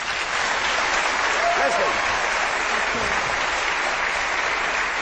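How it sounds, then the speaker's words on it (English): A studio audience on a live paranormal TV broadcast breaks into loud, dense, continuous applause for the show's resident historian, with a voice briefly speaking over the clapping. "Give her a round of applause."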